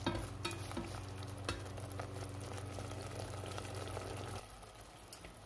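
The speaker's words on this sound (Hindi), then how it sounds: "फिर से मैं इन सब मसालों को मिक्स करूंगी और इसको 5 मिनट तक भूनूंगी।" Coriander powder and garam masala roast in a hot pan while being stirred, a close, steady sizzle and scrape that softens near the end.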